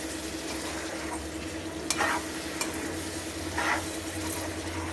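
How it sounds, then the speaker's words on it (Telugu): Brinjal curry with small onions and baby eggplants being stirred in a pan, a steady soft sizzle with a couple of brief scraping stirs, close and fairly quiet, with no voices. "వేసేసుకొని ఒకసారి తిప్పేసుకుందాం"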